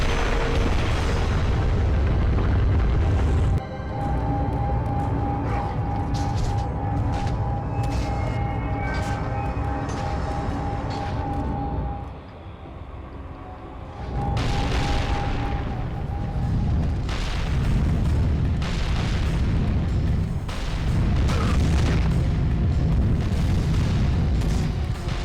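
Fireballs in God of War, a heavy continuous rumble of booming blasts with a short dip in the middle, loud and close throughout.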